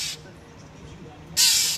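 A pet bird gives two short, loud, harsh squawking calls close up, one at the start and one near the end, with quiet room sound between.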